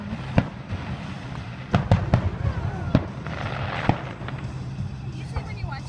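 Fourth of July fireworks pop and bang in scattered sharp bursts at a moderate distance, some crackling, with people talking nearby between and over the explosions.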